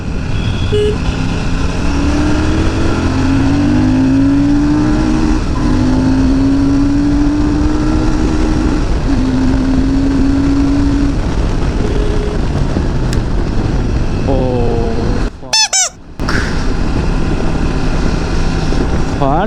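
A Royal Enfield Super Meteor 650, a 650 cc motorcycle, accelerates in second gear with a loud, steady engine roar that rises in pitch, under strong wind noise, with a brief dropout near the end.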